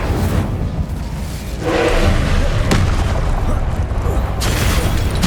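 Incendio fire spell cast in Hogwarts Legacy, heavy whooshing booms that burst out twice over a loud, rumbling combat background.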